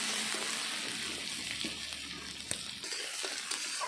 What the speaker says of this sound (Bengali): এখন এই আলু আর পেঁয়াজগুলো ভালো করে ভেজে নেব।